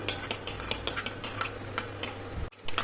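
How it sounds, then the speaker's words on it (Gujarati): Cashew halves shallow frying in hot oil in a pan, with close, repeated clinks and scrapes of a utensil stirring them over a soft, steady background, with no talking. "તેલ ગરમ થાય એટલે એમાં કાજુ આપણે આવી રીતના મેં વચ્ચેથી કટ કરી લીધા છે હાફ પીસમાં, એને આપણે એડ કરી દેવાના છે"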